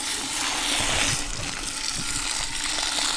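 Water from a watering can splashes and gushes onto new plants in wicking containers in a steady, close stream for a few seconds.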